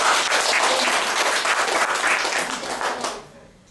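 A church congregation applauds in a dense burst of clapping that fades away near the end.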